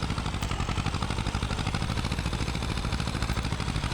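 A tractor engine in the video game Farming Simulator 22 chugs steadily with a rapid, even pulsing throb, close and constant throughout with no voices.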